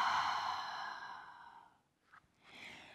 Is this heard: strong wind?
no